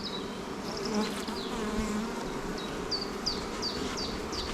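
Honeybees buzz inside a smoked beehive while a honey super is being added, a dense steady hum close up with wavering wingbeat tones sweeping through it.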